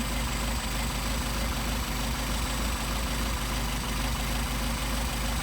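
A Mercedes 190SL engine with Solex carburettors idles steadily while its idle screw is backed off, giving a loud, continuous, slightly rough hum with no voices.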